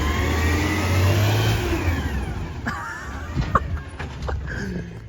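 A heavy garbage truck engine revs hard and roars close by, then settles into a rumbling idle with some clanks.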